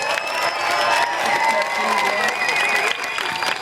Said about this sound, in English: If you clap and cheer loud enough, maybe Stephanie will take a bow for you guys.